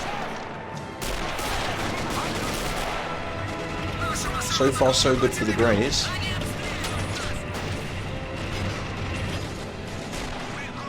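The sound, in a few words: cannon fire and explosions in Men of War video game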